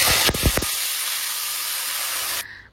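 Panch phoron and green chillies drop into hot oil with a loud burst of crackling and sputtering, then settle into a steady, intense sizzle that cuts off abruptly.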